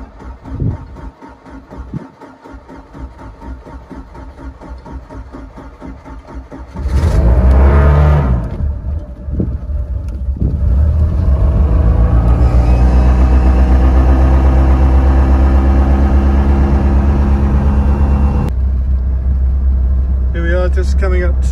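A Monterey Bowrider 180 boat engine is pumped and cranked with the throttle slightly open, then catches around seven seconds in and settles into a loud, steady idle, with a short pause and restart near the end.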